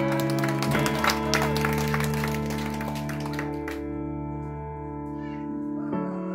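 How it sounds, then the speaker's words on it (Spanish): Applause from a church congregation at a Christian worship service, a dense patter of clapping over loud sustained organ-like music that fades after a few seconds while the music carries on. "Aplauso."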